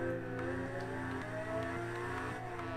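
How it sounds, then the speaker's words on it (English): A car engine in the video game Test Drive Unlimited 2 on PS3 hums steadily with a faint turbo whine over it, holding a constant drone without clear revving. "even hearing a little bit of that, like, turbo of the car,"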